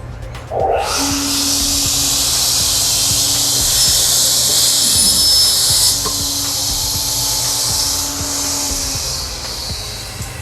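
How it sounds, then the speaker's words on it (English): A vertical panel saw makes a short six-inch cut, its motor starting with a jump into a loud steady whine and hiss, with a faint tone running beneath, holding for about ten seconds. "Next, we're going to make a small cut."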